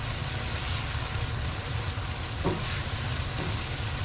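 Vegetables sizzle in oil with yogurt in a pot as vegetable pulao is cooked. A steady, even frying hiss runs throughout, with a soft stir near the middle and no one speaking.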